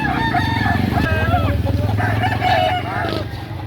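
A seven-month-old Malatuba gamecock crows loudly and close at a Padre Garcia, Batangas livestock market, one long drawn-out call over background chatter and other fowl.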